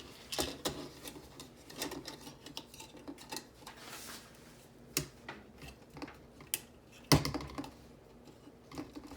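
Plastic pieces of a 2014 Corvette Stingray model car pressed and snapped into place, a series of small, sharp clicks and taps at irregular intervals, one crisper snap standing out near the end.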